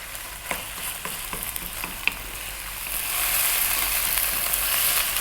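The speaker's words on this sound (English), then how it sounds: "Next up we're going to drop in the chicken, cut nice and thin." Thinly sliced chicken sizzles and fries in a pan while being stirred, with scraping stirring strokes early, then a loud, steady, close sizzle swelling in the second half, with no voices.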